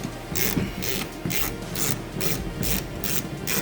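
Hand ratchet clicking steadily in rapid repeated bursts while loosening bolts on a Porsche Cayenne passenger-side window regulator motor, close and clear with no talking.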